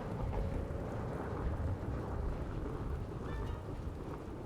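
Rain and thunder in the video game Sniper Elite, a steady wash of rainfall under a low, rolling rumble of thunder at a fairly quiet, even level.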